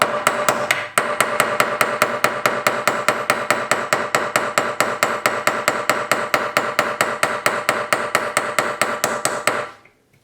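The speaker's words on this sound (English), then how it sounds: "Just hammer it steep." A hammer taps wire inlay into a steel piece in a rapid, even series of sharp metallic strikes, roughly five per second, loud and close, ending with a fade.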